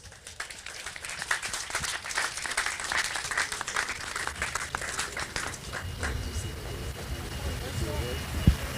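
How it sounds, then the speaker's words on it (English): Outdoor applause for Barbados Fire Service recruits at a passing-out parade, a sustained round of clapping from a gathered crowd with some background rumble and movement noise beneath it. "recruit Victor, recruit Blackman, recruit Hollingsworth, and recruit Ward Morrison should be given a round of applause."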